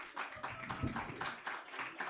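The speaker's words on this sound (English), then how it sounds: "Give Tiffany a big round of applause." Small comedy club audience applauds a volunteer on stage with steady, rhythmic clapping, faint and intimate, with a brief low thump partway through.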